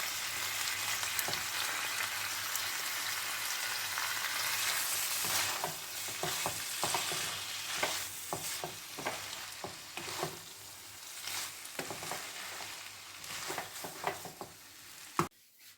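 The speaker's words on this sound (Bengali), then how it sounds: "এবার আমি চাউমিনটা এর ভেতরে অ্যাড করে দিচ্ছি।" Mixed chow mein with prawn, chicken and fried vegetables being stir-fried in a pan: a steady, loud sizzle runs throughout, broken by frequent clanking stirs and scrapes toward the end, with no talking.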